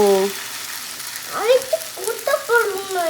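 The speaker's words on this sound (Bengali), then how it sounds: "তো দুটো প্যানেই আমি রুটি তৈরি করছি" Oat rotis cooking on two hot pans at once in a home kitchen, giving a light, steady sizzle close by while someone talks over it.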